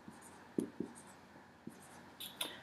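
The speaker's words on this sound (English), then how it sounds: "So I'm going to write them all out." Pen or pencil writing out a math problem on simplifying radicals, heard as several faint, scattered scratching strokes with short pauses between them.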